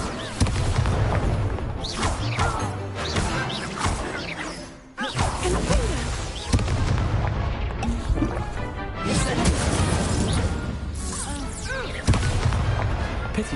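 Hogwarts Legacy wizard duel with an Incendio fire spell, heard as repeated loud whooshing blasts and crashing impacts with a continuous roaring texture, dense and close throughout.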